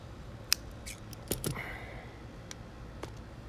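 Pruning shears cut a hibiscus root during repotting, making a few sharp, quiet snips and clicks spread over a few seconds against a faint background.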